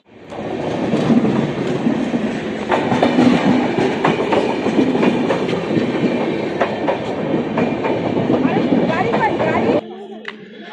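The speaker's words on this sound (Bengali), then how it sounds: "স্টেশনে চলে এসেছি আমার হ্যাঁ, ট্রেন আসছে ট্রেন" A train pulls into a station with a loud, steady rumble and rapid clickety-clack of wheels that runs for about ten seconds and then cuts off sharply, while voices talk faintly underneath.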